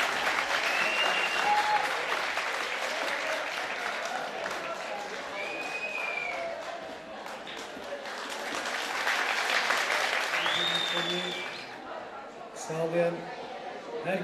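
A village cultural night audience bursts into sustained, dense applause with a few whistles to welcome a singer. The clapping fades after about twelve seconds as a voice and crowd murmur take over.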